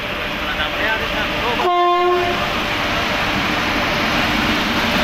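An Udhna–Brahmapur Amrit Bharat passenger train rumbles steadily along the tracks at Nandurbar, and a short, loud horn blast sounds early on before fading into the continuing rail noise.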